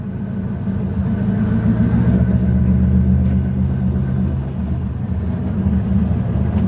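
Car engine idling steadily nearby, a low continuous rumble with a slight swell in the middle, alone without talk.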